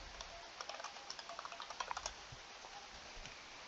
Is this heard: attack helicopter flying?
no